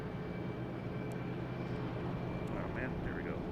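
A JetBlue airliner takes off at Boston Logan Airport, a steady broad engine roar heard from a distance, with faint background voices.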